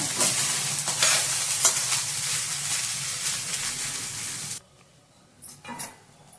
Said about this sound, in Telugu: కొంచెం ఇది ఫ్రై అవ్వాలి